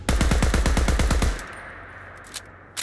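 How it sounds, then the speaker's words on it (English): Vanilla assault rifle in Fallout 4 firing a rapid automatic burst of about a dozen loud, evenly spaced shots, then cutting off to a quiet tail with a couple of faint clicks. "I believe that is the the vanilla assault rifle, everybody's favorite"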